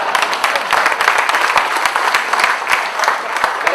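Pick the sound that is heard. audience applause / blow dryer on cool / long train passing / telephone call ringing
audience applause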